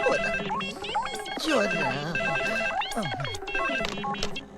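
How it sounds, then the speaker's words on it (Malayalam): A telephone rings repeatedly in a shrill electronic tone in an indoor scene from a Malayalam comedy, loud and continuous, with voices talking over the ringing. "സാറേ സാറേ ഫോൺ"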